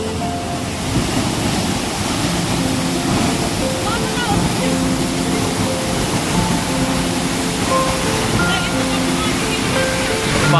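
Bire waterfall in Martadi, Bajura, Nepal, roars in a loud, constant, close rush of falling water, with a voice speaking faintly beneath it.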